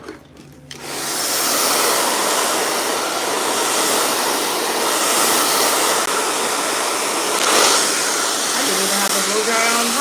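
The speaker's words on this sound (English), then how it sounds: "Blow dryer on high when it was blow drying." A hair blow dryer running on high with a comb attachment fitted, a loud steady whooshing roar that starts abruptly and holds near and constant throughout, with a faint shift in tone near the end.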